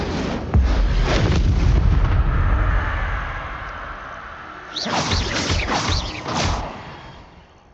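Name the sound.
spell explosions in Hogwarts Legacy video game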